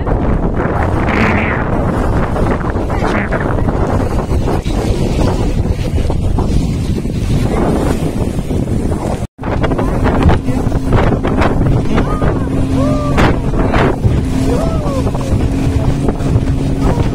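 Wind blowing beside the Padma river in Bangladesh, a steady rough rush buffeting the microphone throughout, with a low humming drone joining in the second half and faint voices in the background.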